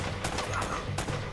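Gunfire from the action game Uncharted: Drake's Fortune, several sharp shots in quick bursts over a steady low in-game background hum, fairly loud and close.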